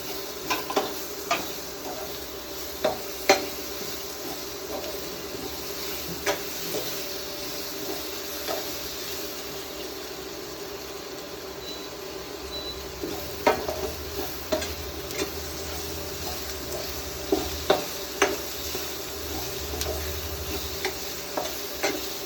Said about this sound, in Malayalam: 2 തക്കാളിക്ക് അരിഞ്ഞത് ഇതിനകത്ത് ഇടുക